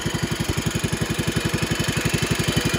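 A 1970 140 H3 engine running on a two-stroke gas mix idles with a steady, close, loud putter of rapid, evenly spaced firing pulses throughout.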